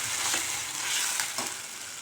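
Tomato paste being stirred into a simmering garlic curry in a pan, giving a steady close frying hiss with soft scraping stirs throughout, no talking.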